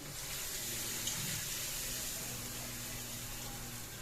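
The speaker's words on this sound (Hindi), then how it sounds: "और बस साथ में हम डालेंगे इसमें पानी।" Water runs steadily into a mug in a home kitchen, a continuous bright hiss of pouring liquid that fills the whole moment without speech.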